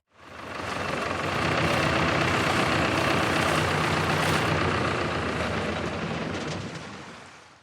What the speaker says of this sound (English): The boat wading kind of follows the boat, much like the boat engine.